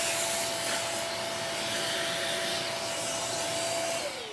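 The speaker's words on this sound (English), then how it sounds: "I can go ahead and vacuum up things." An Airthereal touchless electronic dustpan vacuum runs steadily and loud at close range, a continuous airy whir with a faint high tone that dips slightly near the end.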